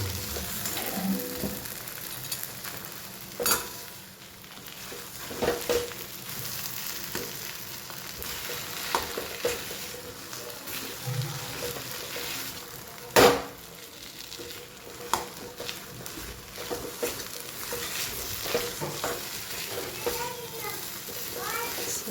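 Potato masala being stirred in a hot pan, a steady sizzle with scattered spoon scrapes and taps across the whole stretch, while a voice talks now and then and children can be heard faintly in the background.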